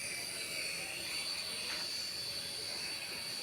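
A cheap toy helicopter flies nearby with a thin, steady electric whine and a soft rotor buzz that holds evenly throughout.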